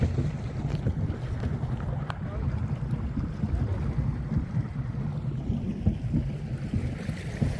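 A pedal boat moves across water toward an island in Odisha with a steady low rumble, lapping water and gusty wind buffeting the microphone.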